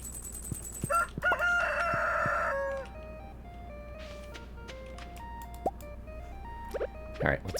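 Chickens and a rooster in a farming video game: a loud rooster crow rings out near the start, followed by scattered clucks and short bird calls over quiet background music.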